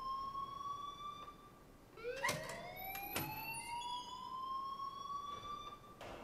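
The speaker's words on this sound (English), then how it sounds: "please turn off that alarm since that's your job" An alarm rings in the video game Life Is Strange: a steady electronic siren-like wail with sweeping pitch glides, loud and continuous throughout, with a couple of sharp bursts midway.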